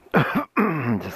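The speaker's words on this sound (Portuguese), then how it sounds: "Desculpa a tosse." Two short throaty coughs, a brief pause, then a longer rough cough-like burst, close to the microphone.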